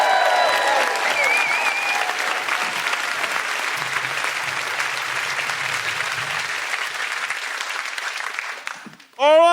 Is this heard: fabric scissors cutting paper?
no